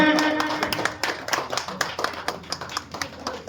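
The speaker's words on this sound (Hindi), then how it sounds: "करताली सहित उत्साहित करेंगे" Clapping and applause from an audience honouring artists at a felicitation ceremony of a Ramnami society in Nagabali, Cuttack; a steady patter of many hands, moderately loud, with some voices mixed in.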